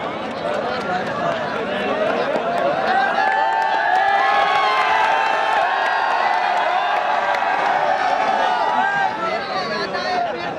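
An audience at a mushaira poetry gathering in Ludhiana, Punjab, welcomes poet Minnat Gorakhpuri with a loud, steady wash of crowd applause and cheering voices that fills the whole stretch without a break.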